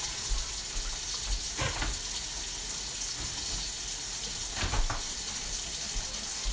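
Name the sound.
running tap water to warm broth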